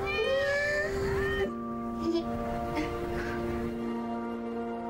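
A cat meows several times with rising, drawn-out cries, clear and close, followed by a steady tonal background hum with faint voices underneath.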